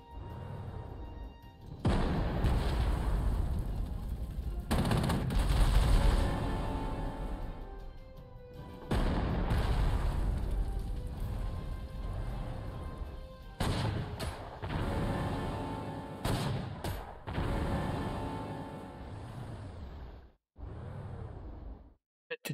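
Anti-tank gun fire in the World War II strategy game Panzer Corps 2, on the Wehrmacht campaign near Kiev: a run of loud booming shots and blasts with brief gaps and lingering rumble, then a quiet close.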